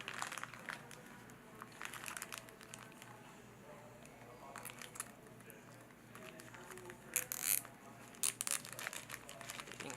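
Plastic package of fly-tying material for a merkin crab fly being folded over, giving soft, irregular crinkling and rustling close by, with a few sharper crackles late on and quiet talk in the background.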